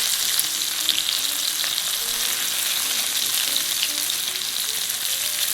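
Veal medallions with sage leaves fry in a hot pan with a dense, steady, close sizzle and crackle that runs unbroken, with no talk.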